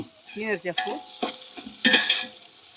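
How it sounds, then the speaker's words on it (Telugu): Onions frying for a chicken curry cooked at a night campsite, giving a steady sizzle with stirring and utensil clatter; a voice speaks briefly near the start. "కొద్దిగా ఇప్పుడే ఉల్లిపాయలు వేసాడు, బాగా ఆగాలి."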